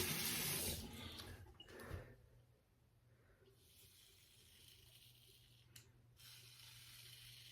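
A Gillette Super Glide razor rinsed under a running tap, with water splashing loudly for about two seconds, then a softer steady trickle and light handling sounds.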